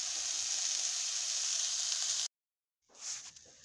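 Food frying in a pan makes a bright, steady hiss and sizzle at close range. It drops into silence for a moment, then flares back up briefly.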